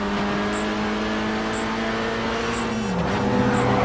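Racing car engines in the video game GRID 2 on Xbox 360 roar continuously with rising and falling pitch as cars close in, accompanied by faint periodic beeps, no talking.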